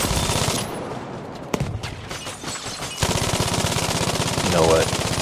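Rapid, continuous bursts of MMG machine gun fire in Battlefield V on PlayStation 5, loud and close, with a brief pause before the firing resumes in a sustained rattling stream.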